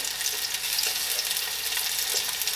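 Meatballs sizzle steadily in a hot pan for Italian wedding soup, a dense, even crackle of frying with faint clicks as tongs turn them; no talking.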